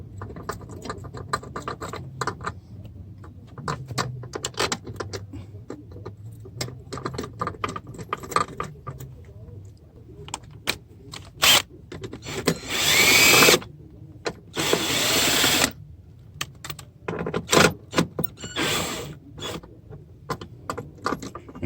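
Ford Super Duty door striker plate being reinstalled with a power tool, close clicks and rattling handling noises followed by a few loud short whirring bursts from the tool, then more clattering; no talking.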